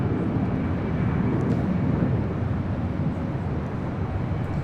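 Lufthansa airliner on takeoff at LAX, a broad, continuous jet roar heard from a distance, steady and rumbling for the whole stretch.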